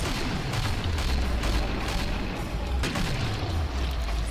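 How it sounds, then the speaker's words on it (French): Deep booming explosions in a video game, two heavy rumbling blasts that swell and fade, sitting within dense continuous game noise with no talk over them. "Explosion."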